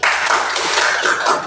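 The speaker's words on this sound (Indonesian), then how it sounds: "Aplaus dulu untuk kelompok 1" A university class bursts into dense, sustained applause for a student group after their presentation, loud and close, a steady wash of many hands clapping.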